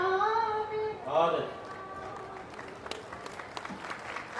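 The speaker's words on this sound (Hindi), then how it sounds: "3-4 लोगों ने ताली बजाई है" Sparse applause from a few audience members at a Hindi poetry recital (kavi sammelan) in 2023, scattered claps following a sustained voice, fairly faint in a reverberant hall.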